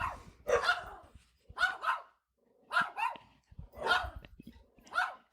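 A dog barks through a fence in a short series of loud, close bursts, about five barks with brief pauses between them.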